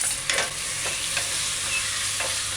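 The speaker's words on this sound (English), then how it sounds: "And stir." Chicken chop suey with chili pepper frying in a pan on a stove while being stirred, a steady loud sizzle with a few scraping strokes from the spoon, no talking.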